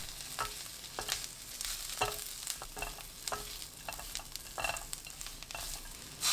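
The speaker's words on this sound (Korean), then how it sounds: "어묵 넣고 1분 볶아주세요." Fish cake and onion stir-fried in an oiled pan over high heat make a busy sizzle broken by repeated scraping stirs and clacks of a utensil, close and with no voices.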